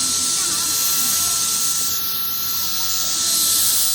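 A portable electric fan blows steadily and loudly at close range, a constant broad airy whoosh with a faint tonal hum, held without pause; there is no clear speech over it.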